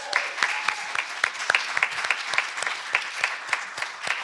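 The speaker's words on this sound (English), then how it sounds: "let's give a round of applause to all of our volunteers" A small congregation at a church service claps for its volunteers, sparse individual hand claps ringing out distinctly and unevenly in a close, fairly loud patter without voices.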